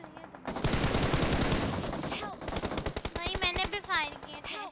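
Automatic gunfire in a PUBG Mobile or Free Fire match rattles in rapid bursts, then continues as separate sharp shots while game sound effects sweep through between them.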